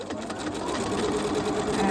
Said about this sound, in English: I have again removed the throat plate from my sewing machine just so I can stitch on the round